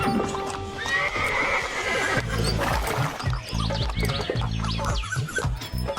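Horse pulling a cart, with loud neighs and whinnies up close over rhythmic clip-clop of hooves and a low rolling rumble, continuing throughout.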